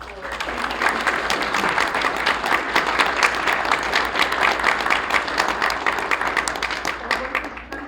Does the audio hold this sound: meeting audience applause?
yes